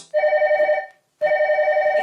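A telephone ringing loudly and close by in two long warbling bursts separated by a short pause, the classic double-ring pattern with a fast trilling texture.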